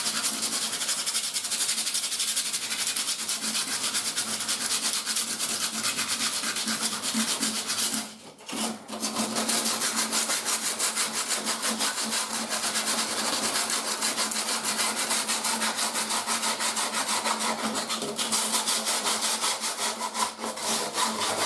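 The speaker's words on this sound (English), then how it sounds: "Let's get to work sanding." Steady, rhythmic scraping of sandpaper rubbed back and forth by hand on a Hotpoint washing machine's surface, close and continuous, with one brief pause partway through.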